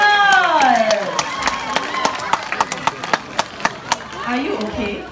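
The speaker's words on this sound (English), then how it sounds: "Round of applause for our volunteers and trainers!" Zoo audience at a night show applauds volunteers and trainers, a spread of hand claps with several sharper distinct claps standing out, mixed with voices and crowd murmur.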